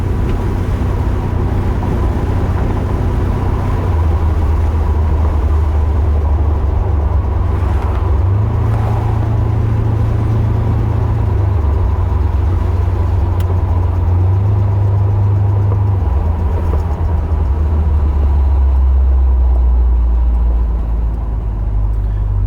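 The matching-numbers 454 LS4 V8 with a rebuilt, freshly jetted carburetor in a 1974 Chevrolet Corvette idles steadily and loudly from up close for over twenty seconds, its deep rumble swelling slightly with a few light revs, with no talking.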